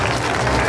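Crowd applause at a Santa Ana patron saint festival in Tusi, dense and loud, a brief steady burst of clapping.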